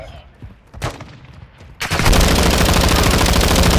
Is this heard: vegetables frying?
no